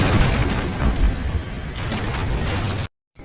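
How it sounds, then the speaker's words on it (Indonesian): A ship blowing up in a film sea battle: a dense, sustained rumbling roar of blasts and debris for nearly three seconds, loud and close, cutting abruptly to silence. "hingga akhirnya kapal miliknya meledak dan hancur seketika"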